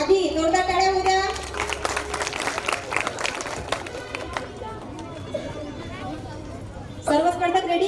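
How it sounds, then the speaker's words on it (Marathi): Parents' game event audience claps and cheers in a dense burst of applause with crowd chatter and children's voices, while an announcer speaks over it at the start and end. "फायनल राऊंड सुरू होण्यास आधी जोरदार टाळ्या होऊ द्या"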